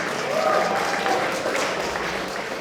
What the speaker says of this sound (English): I'd like you to give a massive round of applause and give your time to Elliott Crossley